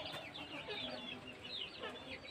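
Native KUB chickens in a backyard coop cluck and chatter softly and continuously, several birds overlapping at a moderate distance with a low, steady room hum underneath.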